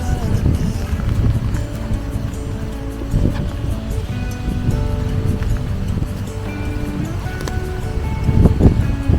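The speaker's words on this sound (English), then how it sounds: "You can probably hear the wind noise." Stormy weather at a riverside touring park in mid Wales brings heavy wind buffeting close to the microphone, a loud, rough rumbling roar with gusty surges and faint rustling throughout, with someone talking under it.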